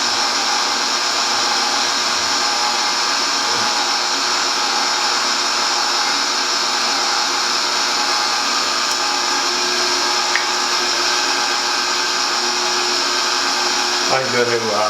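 An electric mixer works sugar into bread dough for cinnamon buns, a steady, loud mechanical whir that holds constant for the whole stretch with only a faint clunk near the end.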